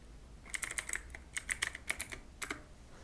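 Typing on a computer keyboard: quick clusters of crisp key clicks in short bursts with brief pauses between, close and fairly quiet, with no talking.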